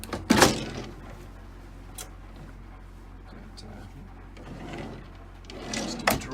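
A wooden drawer in a 2000 Newmar Dutch Star RV slides open and shut with a quick knock and rumble, followed by a quieter stretch and a second, softer thud near the end.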